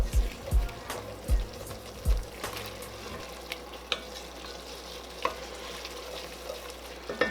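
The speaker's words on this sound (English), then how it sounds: "to kind of focus on deglazing my pan right now, or my pot" Beef stew pot being deglazed: a few soft scraping stirs at the start, then a steady low sizzle and faint bubbling with scattered small clicks, close and moderately quiet, no voices.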